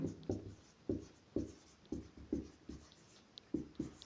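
Chalk or marker strokes writing a maths equation on a classroom board, a series of distinct scratchy taps and short strokes in an irregular rhythm, close and fairly quiet, with no talking.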